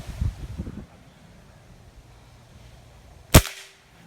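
A Crosman .22 air rifle fires a single sharp crack outdoors with a Red Flight Penetrator pellet, following a few soft thumps in light wind.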